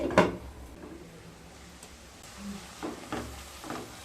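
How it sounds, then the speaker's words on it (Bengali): Spices and salt sautéing in a pan for a Bengali festive-style vegetarian mixed veg, giving a faint, steady sizzle with soft stirring scrapes and a few light clinks, heard fairly quietly with no talking. "মশলাগুলোকে খুব ভালোভাবে কষিয়ে নেব"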